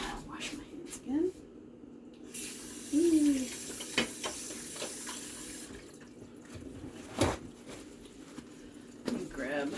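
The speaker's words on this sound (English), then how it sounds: "And let me wash my hands again." Tap water runs into a kitchen sink as hands are washed between steps of making meatloaf, a steady splashing hiss in the middle of the clip with brief squishy handling sounds before and after.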